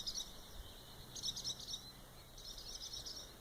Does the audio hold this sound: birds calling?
yes